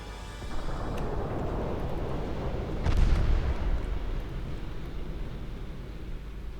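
A torpedo strikes a ship in the naval warfare game Ultimate Admiral Dreadnoughts, with a deep boom swelling out of a steady low rumble midway and then fading back into the drone, with no voices.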